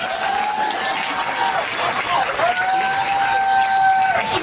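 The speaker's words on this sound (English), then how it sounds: "Who in here has given birth? Can you clap?" Audience at a stand-up comedy show claps steadily at moderate volume, with scattered voices and a few drawn-out calls rising over the clapping.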